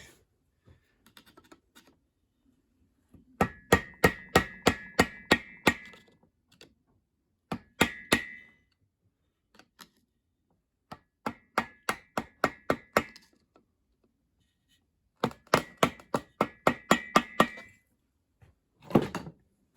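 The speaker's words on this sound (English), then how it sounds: "So we need to bend the tab down on this bolt here." A lock tab on a bolt of a Kawasaki F6/F7 engine is bent down during a teardown, producing four separate bursts of rapid, sharp metallic clicks and taps with quiet gaps between them and no talking.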